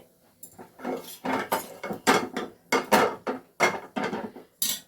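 A spoon scrapes and clatters around a pan of chili flakes, turmeric and Kashmiri chili powder for egg paneer, giving a steady run of rhythmic metallic strokes, close and fairly loud, with no voices.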